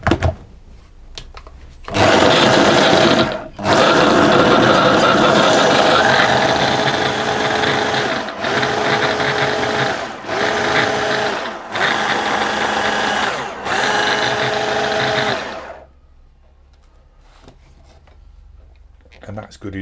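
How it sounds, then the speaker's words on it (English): A food processor pulses dry tart-pastry ingredients into a fine breadcrumb texture, loud whirring bursts of several seconds each separated by brief stops, with a faint spoken voice before and after. "I'm going to pulse that until it forms a fine breadcrumb-like texture"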